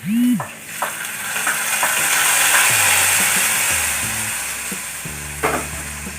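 Hot ghee with fried coconut is poured into ada pradhaman payasam, giving a loud, continuous sizzle and crackle, with a few soft knocks from a spoon or pan.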